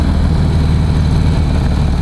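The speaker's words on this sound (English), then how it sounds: "It sounds like a stock exhaust still, but with a little bit of a tone." A 2016 Harley-Davidson CVO Pro Street Breakout motorcycle rumbles through a near-stock exhaust with a bit of added tone, giving a loud, steady, deep engine drone with no break.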